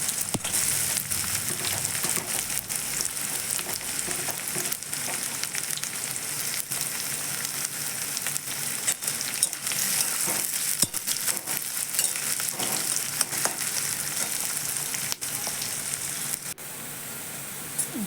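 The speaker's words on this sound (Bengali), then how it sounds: "পেঁয়াজটা ভালো করে ভেজে নিয়েছি দেখো একটু লাল লাল হয়ে গেছে" Chopped onion and green chillies fry in oil with a dense, continuous sizzle and crackle, broken by scraping stirs, close and steady throughout with no talking.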